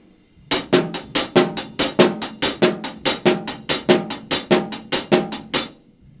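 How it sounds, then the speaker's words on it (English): A steady halftime shuffle drum groove with crisp hi-hat strokes in a lilting triplet feel and regular snare hits, played alone at moderate volume. "a halftime shuffle is based on a triplet pattern broken up between the hi-hat and the snare drum"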